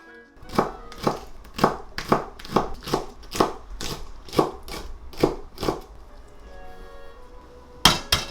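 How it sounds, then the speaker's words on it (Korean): A knife finely chops green onion on a board in a steady rhythm of about a dozen crisp close strikes, then a pause and one final chop. "먼저 대파를 잘게 썰어주세요"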